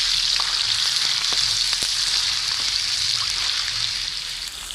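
Garlic and ginger tadka for moong-masoor dal sizzling in hot oil in a village kitchen, a loud continuous hiss with occasional light clicks of stirring, fading slightly toward the end, no talk.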